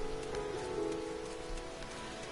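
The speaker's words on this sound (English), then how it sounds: "And it is raining, and it is nighttime" Steady rain falling at night in the video game Final Fantasy XIV, a continuous soft patter of drops on surfaces that holds at an even level throughout, with faint tonal ambience beneath and no voices.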